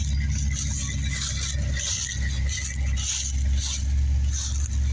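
A 1986 Corvette with Flowmaster Super 40 mufflers and a true dual H-pipe running after a cold start, a deep, loud, steady exhaust rumble with slight rises in revs, close by and without speech.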